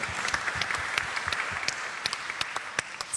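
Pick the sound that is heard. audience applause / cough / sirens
audience applause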